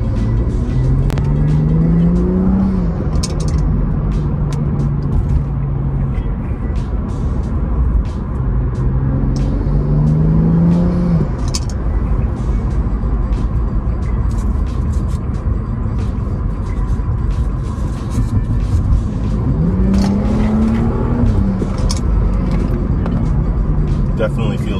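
A BMW F30 with the N55 engine, fitted with new Bosch ignition coils and NGK spark plugs, is on a road test drive. The engine hums steadily and surges in repeated upshifting acceleration pulls, with constant road and wind noise underneath.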